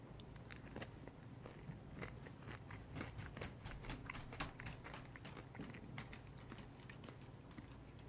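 Pumpkin Pie M&M's candy being chewed up close, with a steady run of crisp crunching bites from the candy shells and no talking over it.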